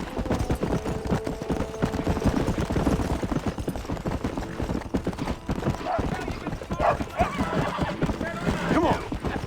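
Horse galloping in the Red Dead Redemption video game, with steady clip-clop hoofbeats and an occasional whinny over a busy game soundscape, while characters talk throughout.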